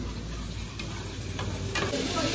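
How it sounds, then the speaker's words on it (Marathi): Mutton fry sizzling in a pan in a long-running hotel kitchen, with a steady dense hiss filling the whole stretch and faint stirring clinks beneath, close and continuous. "मटन फ्राय बनवताय मावशी"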